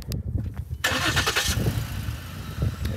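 A 2013 Lincoln MKZ with the 3.7 engine cranks and fires up close by, settling into a steady idle after the brief starter whir.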